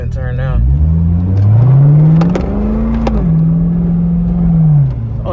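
LS3 Corvette with a muffler delete, secondary cat delete and X-pipe, a loud deep exhaust rising as the car pulls out and turns, holding a steady rumble and then easing off.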